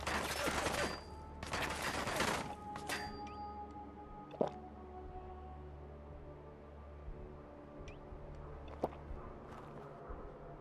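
Gunfire in Fallout 4: two loud bursts of rapid shots at the start, then a few isolated sharp cracks spread over a quiet background.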